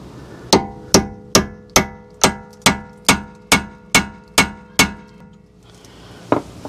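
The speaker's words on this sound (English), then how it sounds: "Now I'm just gonna use this little punch here and stake this flange down." Small metal punch struck by a hammer to stake the axle nut flange on a Toyota Sienna passenger-side CV axle: about ten sharp, ringing metallic blows at a steady, even rhythm, close and loud, then a pause and one final strike.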